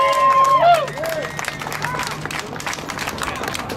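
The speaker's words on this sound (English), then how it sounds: "Can we have a bigger round of applause for the Dillon Taylor's family?" Crowd applause for Dillon Taylor's family at an outdoor justice rally, scattered clapping and murmuring voices with a brief whistle-like tone at the start.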